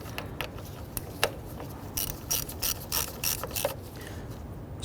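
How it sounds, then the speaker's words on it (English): A hand ratchet snugs down a radiator bolt on a 1994-2004 Ford Mustang, giving short bursts of close, crisp clicking in uneven groups against a quiet shop background with no talking. "your ratchet to go ahead and snug these down in a position"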